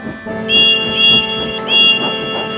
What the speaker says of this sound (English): Edward was shunting in the yard when he heard a whistle.